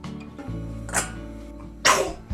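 A single short sneeze bursts out near the end, close and fairly loud, after a smaller earlier burst, in a home kitchen while vegetables and rinsed chickpeas are prepared for a child.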